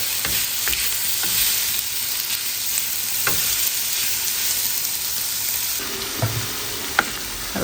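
Paneer sautés in oil in a pan for a paneer wrap filling: a loud, continuous frying hiss, close by, with a few light taps of stirring scattered through it.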